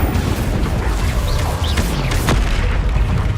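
Fiery Incendio spell cast in Hogwarts Legacy, a loud, dense roaring whoosh of flame and blast that fills the whole moment without pause and with no voice over it.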